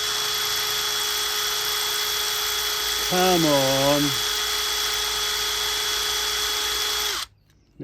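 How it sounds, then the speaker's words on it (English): Power drill boring into a big gate to fit a new lock, a steady high whine running throughout with a brief strained, wavering pitch change midway as the bit bends at an awkward angle, then it cuts off; a voice speaks briefly. "This is where we're going to snap the drill."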